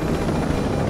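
A helicopter in the video game Ghost Recon Breakpoint thrums loudly and steadily, a constant close rotor and engine roar with no talking.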